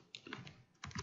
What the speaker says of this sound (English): And then I can just type in